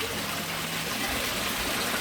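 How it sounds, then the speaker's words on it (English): Water from a small homemade waterfall spills steadily into a backyard koi pond with a filter system, a continuous even splash and trickle that stays at the same level throughout, with no voices. "so we built a little waterfall for her"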